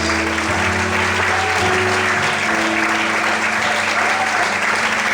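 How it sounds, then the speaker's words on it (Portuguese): A church congregation applauds during an evening service, steady dense clapping that fills the room continuously, with a sustained low musical drone underneath. "Será que você pode aplaudir ao Senhor nessa noite?"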